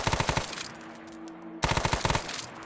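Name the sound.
gunfire from a weapon in the video game Arma 3 Prairie Fire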